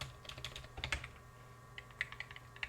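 Quiet clicks of a computer keyboard in two short bursts of typing separated by a brief pause, faint and close, with no voice.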